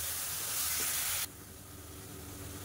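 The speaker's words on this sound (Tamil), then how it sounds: "இப்போ இதை நல்லா வதக்கிக்கலாம்." Onion, ginger and garlic paste sautéing for mutton curry, a bright hissing sizzle that suddenly drops to a quieter simmer partway through, with no talking.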